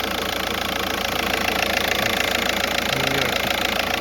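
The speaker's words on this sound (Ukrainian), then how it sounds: "Двигун взагалі гарно працює." Volkswagen Golf 5 from 2008 with a 1.9 TDI diesel engine idling in cold weather, a steady close rattling diesel drone with even knocking, unbroken throughout.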